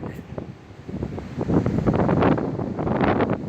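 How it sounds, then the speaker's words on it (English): Heavy wind at Bamburgh on the Northumberland coast buffets the microphone in a steady low roar that swells and gusts louder midway, with no voices. "the only problem with Bamburgh is it's insanely windy"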